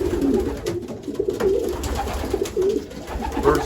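Racing pigeons cooing in a loft, several soft repeated low coos close by over a light background hum.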